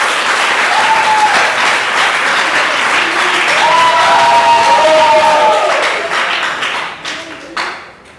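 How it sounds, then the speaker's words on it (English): A school audience at a teen chefs cooking competition breaks into loud applause with some cheering and scattered shouts, a thick crowd roar that holds steady, then thins and fades out near the end. "Shall we give them a round of applause?"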